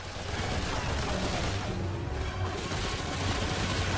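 Continuous rapid gunfire from a gun in Remnant 2, a dense unbroken roar of shots held steady and loud throughout.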